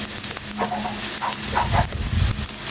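Chopped onion sizzling and frying in a hot pan for crispy corned beef, a steady close hiss broken by a few bubbling pops and light stirring scrapes.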